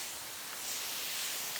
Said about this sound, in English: So we're going to liberally spray